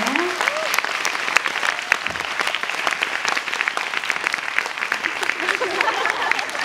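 An audience applauds after a post-show talk with the actors and director of the stage play M. Butterfly. Steady, dense clapping continues throughout, and a voice briefly speaks over it near the beginning and again near the end.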